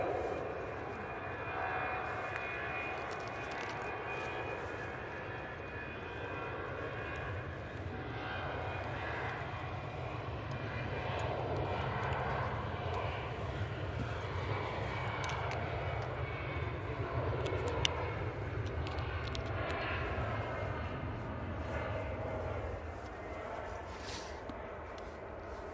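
An Air France airliner at Manchester Airport, a steady distant jet engine rumble and whine holding throughout at moderate level, alone without voices.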